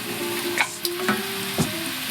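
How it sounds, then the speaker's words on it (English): Vegetables sautéing in bacon fat in a pot give a loud, steady sizzle, with a few short stirring scrapes and taps and no talk. "I want to cook these veggies here for a few minutes"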